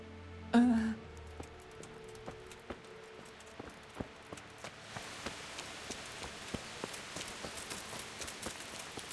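Rain falling in Kingdom Come: Deliverance, a soft steady patter with scattered distinct drips that thickens toward the end, heard faintly in the background after a brief low burst at the start.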